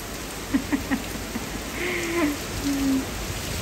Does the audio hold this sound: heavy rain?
yes